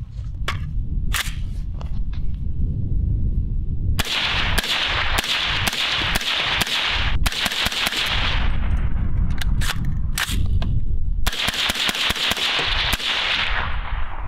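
Suppressed rifle gunfire through a Cole-TAC suppressor cover, loud sharp cracks in rapid strings and bursts with brief pauses between groups of shots, heard outdoors at close range.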